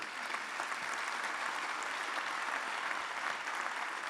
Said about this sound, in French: Vous les applaudissez toutes les deux, s'il vous plaît.